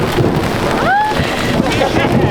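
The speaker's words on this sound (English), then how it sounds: "Oh yeah, it's hail." Hail pelting down during a summer thunderstorm in the Teton backcountry, a dense, loud clatter of stones hitting the ground, with a brief rising vocal whoop partway through.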